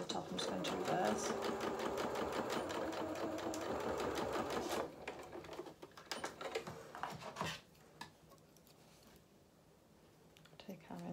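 A sewing machine stitches a side seam on small doll-sized culottes, then reverses at the top. A loud, steady whirr runs for several seconds before dropping to quieter, stop-start stitching, with a voice talking over it.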